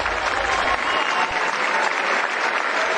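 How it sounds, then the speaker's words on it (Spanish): Audience applause at the 2018 Latin Grammy Awards ceremony, a dense, continuous wash of clapping from a large crowd, loud and even from start to finish. "un aplauso!"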